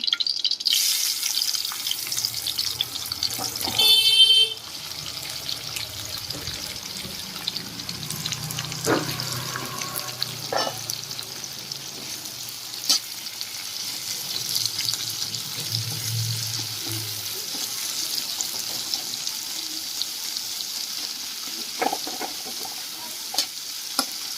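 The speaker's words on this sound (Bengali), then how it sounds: "কড়াইয়ে পেঁয়াজটা বেরেস্তা করার জন্য ভাজবো।" Onions frying in a wok to make crispy fried onions: a steady, fairly quiet hiss of sizzling oil with occasional faint clinks, running continuously throughout.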